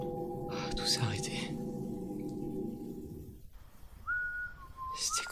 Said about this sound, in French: C'était quoi ce sifflement?